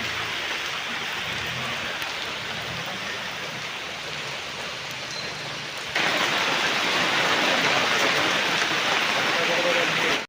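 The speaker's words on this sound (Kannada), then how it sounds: "ಸಿಕ್ಕಾಪಟ್ಟೆ ಜೋರಿದೆ ಮಳೆ" Heavy rain pours steadily as a dense, hissing wash, jumping noticeably louder about six seconds in and continuing without a break.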